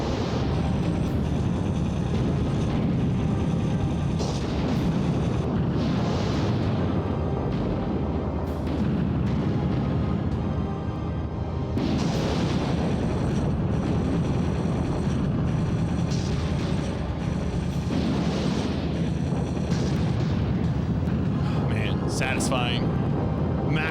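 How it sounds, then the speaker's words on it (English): Explosions in the video game WarHawk: repeated deep booming blasts and rumbling bursts over a constant roar of aircraft engines and game noise, loud and dense throughout, with a voice talking at times. "Maximum satisfaction explosions."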